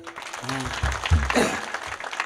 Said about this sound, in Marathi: पांडुरंगला टाळ्या वाजवा एकदा